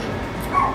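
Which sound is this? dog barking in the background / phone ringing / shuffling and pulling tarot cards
dog barking in the background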